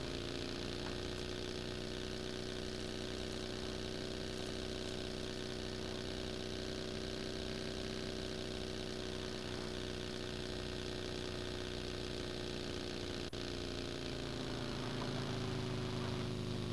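A vehicle engine in the video game PUBG drones steadily throughout, a loud continuous hum that shifts slightly in pitch near the end, with no talking.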